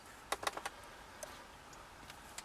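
Computer mouse clicks at a desk, a quick pair of sharp taps followed by a few fainter scattered clicks, close and quiet in a still room.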